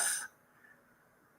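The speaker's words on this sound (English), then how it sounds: "Sorry, I had the cough." A single short, breathy cough up close, followed by quiet room tone.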